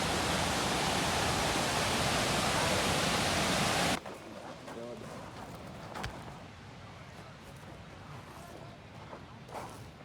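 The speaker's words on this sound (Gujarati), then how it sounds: "મિત્રો આ સિંગોડા નદી છે, અહીંયા મગર પણ હોય છે, અને અહીંયા પાણીનો બહાવ પણ બહુ તેજ છે." Fast-flowing water of the Singoda river, with a dense, loud rushing roar for the first four seconds that then drops to a softer, distant flow with a few scattered knocks.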